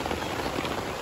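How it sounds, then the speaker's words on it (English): Steady rain patters on a surface at a family campsite, a close, even wash of drops with no breaks and no voices. "It's raining."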